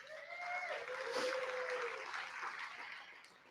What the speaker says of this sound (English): Round of applause, you're all winners.